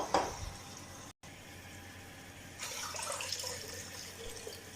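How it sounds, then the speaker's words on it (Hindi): Water poured from a bowl into a cooking pot of rice for jeera rice, a short splashing burst at the start, then a quieter steady trickle and a later swell of pouring, close by with no talk. "तो यहाँ पे अब हम डालेंगे पानी।"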